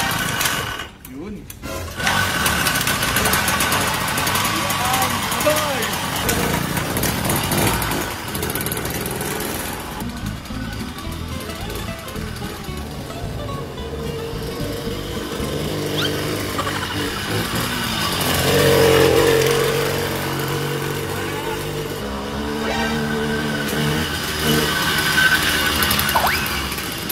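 A 1910 Indian motorcycle engine runs with a rough, buzzing putter that rises and falls, heard close under excited talk from people nearby.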